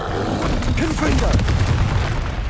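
Confringo fire spell blast in Hogwarts Legacy, a loud booming burst with crackling impacts and a short rumbling tail over the span of a couple of seconds.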